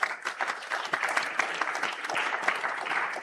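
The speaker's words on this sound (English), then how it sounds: "So can we have a big round of applause" A conference audience at an insurance brokers' jubilee programme breaks into steady, dense applause, many hands clapping continuously at moderate distance with no pauses.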